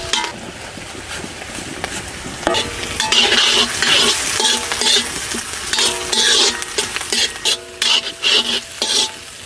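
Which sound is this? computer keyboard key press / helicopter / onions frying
onions frying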